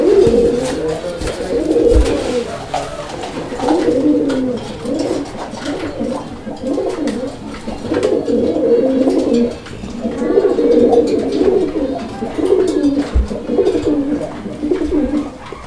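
Pigeons coo in repeated, rolling bursts close by, loud and continuous across the stretch, with brief pauses between phrases and occasional thumps in the background.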